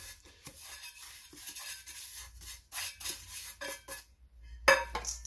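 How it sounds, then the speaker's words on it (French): Tart filling with salt and Espelette pepper being kneaded and mixed by hand in a bowl for an autumn pie, giving soft irregular squishing and rubbing with occasional clinks against the dish, close and quiet, no talking. "Et on malaxe et on mélange bien."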